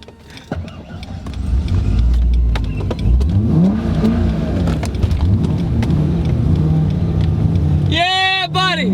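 Supercharged C5 Corvette V8 engine revving hard and holding a loud rising drone, with a sharp higher rev burst near the end; no one speaks over it.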